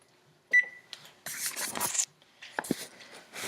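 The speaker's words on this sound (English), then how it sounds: "Set our timer for that last 10 minutes." A steady electronic oven-timer beep sounds once at close range, followed by rubbing, handling and clattering noises from the kitchen, with no talk.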